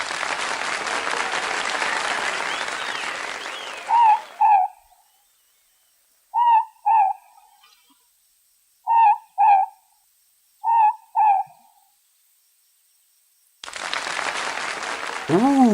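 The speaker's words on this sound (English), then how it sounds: "MOREPORK is a night owl as a rule, but he is about to take the spotlight" A morepork owl, the New Zealand ruru, calls in clear paired hoots, four two-note calls spaced apart in quiet, with loud applause-like noise before and after.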